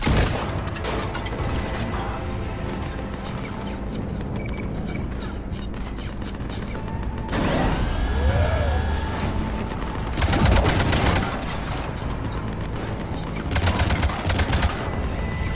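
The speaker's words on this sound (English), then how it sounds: "Cannons engaged." Cannons fire in Mass Effect 3 amid a dense wash of rapid gunfire and heavy booms, with mechanical whines sweeping past and several louder bursts standing out through the middle and end.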